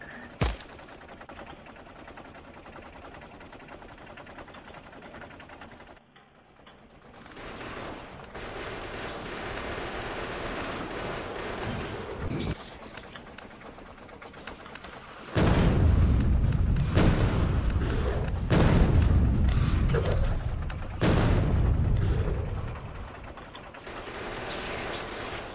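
Tank guns and explosions in Factorio, with dense machine-gun fire running steadily and heavy booming blasts joining in partway through, loud and continuous with no talk.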